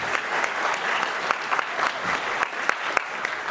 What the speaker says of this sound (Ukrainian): Дякую вам, оплески собі.